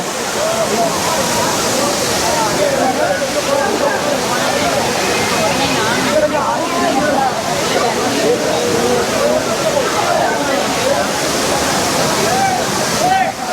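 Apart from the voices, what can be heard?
waterfall pouring down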